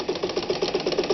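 A Japanese-made Calanda sewing machine built for Pfaff, stitching in a fast, even run of about eight or nine pulses a second, close and alone without talk.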